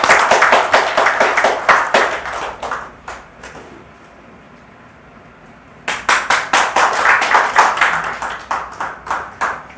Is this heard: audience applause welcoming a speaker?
yes